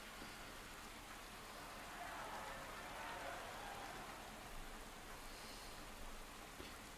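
Steady rain in the Pro Cycling Manager 2018 cycling game, a constant hiss of falling rain at even loudness throughout, with no talking over it.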